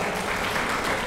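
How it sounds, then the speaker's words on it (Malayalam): A brief, dense burst of audience clapping in a city auditorium during a family reunion gathering, heard steady and loud throughout. "എ ബിഗ് ക്ലാപ്പ് ടു അസ."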